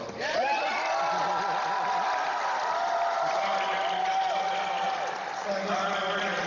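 A voice actor panel audience at Alamo City Comic Con applauds and cheers continuously, a dense wash of clapping and whoops with some laughter filling the hall throughout.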